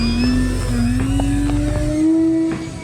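Electric RC sport prop airplane with full-span ailerons flying low past, its motor giving a loud steady whining hum that slowly rises in pitch as it passes near the ground.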